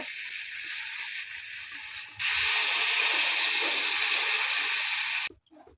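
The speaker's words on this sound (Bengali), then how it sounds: "এবার এই জলটা দিয়ে দেব" Water poured into a hot pan of fried cumin and coriander paste, a faint sizzle that bursts into a loud, sustained steaming hiss for about three seconds, then cuts off.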